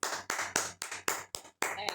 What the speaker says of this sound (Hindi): एक बार ताली बजाएंगे सब